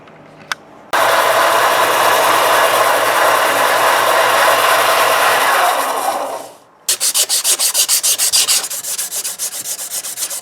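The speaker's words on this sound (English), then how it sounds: "So I'm going to use the edge of my belt sander to kind of suck that portion in" A belt sander grinds and shapes a knife handle, a loud continuous abrasive whir for several seconds that cuts off, then resumes in rapid pulsing passes as the piece is pressed against the belt.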